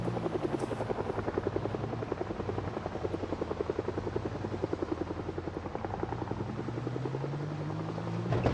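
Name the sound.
helicopter flying overhead in Project Zomboid video game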